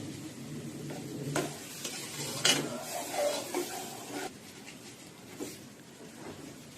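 A spoon stirs vegetarian khichuri of rice, lentils, hot water and a little milk in a pot, with soft scraping strokes and a few sharper clinks over a faint, low simmer.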